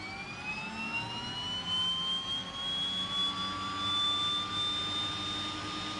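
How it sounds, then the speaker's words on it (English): A de Havilland DHC-6-100 Twin Otter's left turbine engine spools up during start, a steady rising whine with climbing tonal pitch over a broad roar, loud and continuous with no talk. "And we'll give it the left engine now."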